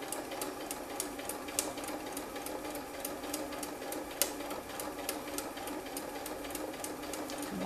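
A sewing machine stitches a spiral quilt at a slow, steady pace, its needle ticking in an even rhythm with a constant motor hum, close by.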